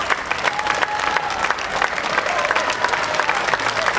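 An audience at a folk festival applauds visiting guests from Ukraine, steady dense clapping heard up close and continuing evenly throughout, with a faint murmur of crowd voices beneath.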